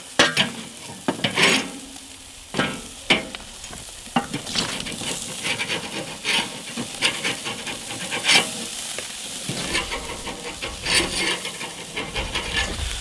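Butter sizzles in a hot pan under a hamburger patty seasoned with kosher salt and black pepper, with irregular scraping and stirring knocks from a utensil throughout.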